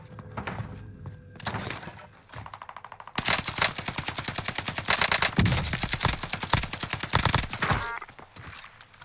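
Mac-10 submachine gun in a video game firing rapid bursts, short rattling volleys at first and then long sustained sprays of very fast shots, loud and close.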